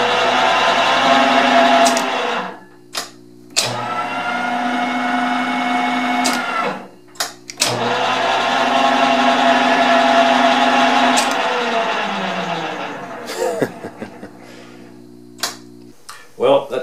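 A Monarch 10EE lathe spindle runs with a loud, steady motor whine, switching on and off several times, while a person talks over it. There are short knocks and clicks in the gaps.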